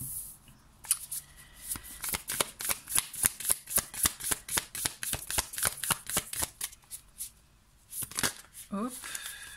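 Tarot cards being shuffled close up in a long run of quick, crisp riffling flicks, then a pause and a few softer card sounds at the end, over a quiet room.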